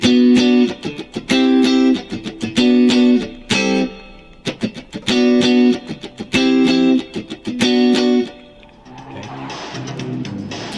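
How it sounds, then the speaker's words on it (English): Guitar strumming a rhythm in a tight 16th-note pattern, bursts of choppy chord stabs in repeated groups with short pauses, loud and close, then fading into softer noise at the end. "if you strum it with a little bit of rhythm with a 16th note strumming pattern"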